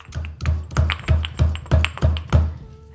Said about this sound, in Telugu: వీటిని కచ్చాపచ్చగా దంచేద్దాం